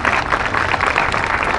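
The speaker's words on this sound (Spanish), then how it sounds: "Dales un fuerte aplauso" Audience applause at a clown show, a steady burst of clapping from a crowd lasting a moment.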